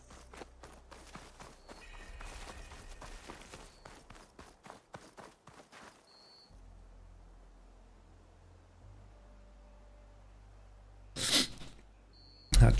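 A single sharp sneeze bursts out near the end, loud and close, after a long stretch of quiet game ambience and footsteps during a Horizon Forbidden West Burning Shores play session.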